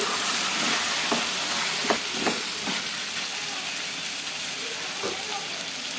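Potato pieces seasoned with salt and turmeric are stirred in a hot kadai, giving a steady sizzling hiss with several scraping stirs of a spoon spread through the frying.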